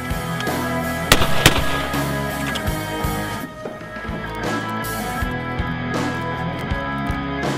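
A 20 gauge shotgun fires a reloaded Winchester Super Target shell, giving a few sharp, loud reports around the one-second mark against steady outdoor background noise.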